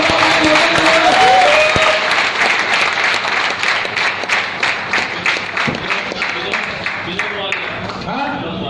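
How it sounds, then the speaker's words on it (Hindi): Loud applause from a training seminar audience greeting a local hero, dense clapping that stays steady and gradually thins, with a voice talking over it. "रामा राजू के ज्यादा तालियां"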